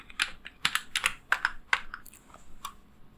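Close-up typing on a computer keyboard: a quick, irregular run of about a dozen clicky keystrokes, with no one speaking.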